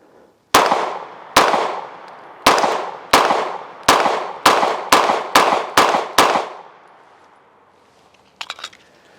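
FN 509 pistol firing hollow point rounds outdoors, ten loud sharp shots in quick, slightly uneven succession, each ringing out briefly, followed by quiet and a few faint clinks.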